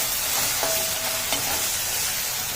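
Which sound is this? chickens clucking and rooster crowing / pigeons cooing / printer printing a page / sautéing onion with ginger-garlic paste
sautéing onion with ginger-garlic paste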